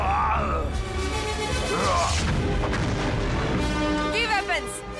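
Missile launches from a TV action show, booming blasts and whooshing sweeps mixed with a voice and music-like effects, several bursts in quick succession.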